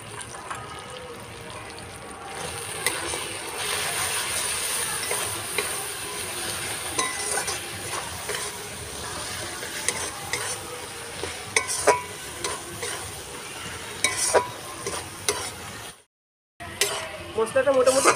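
A spice paste of chilli powder and cumin powder is stirred and fried in a pan. The scraping of the stirring is steady and the sizzling is soft, with a brief drop to silence near the end.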